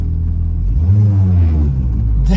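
Supercharged car engine revving up close, a deep rumbling roar that swells through the middle and then eases off, with a short sharp blip of noise right at the end.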